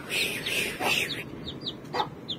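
Asil chickens clucking nearby, a run of short rising calls followed by a few sharper peeps, with soft background noise.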